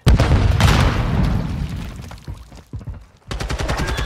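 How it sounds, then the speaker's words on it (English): A grenade going off in a first-person shooter Search and Destroy match, a loud close boom with a rumbling low tail that fades over a couple of seconds before gunfire-like crackling resumes. "Oh, I threw a nade."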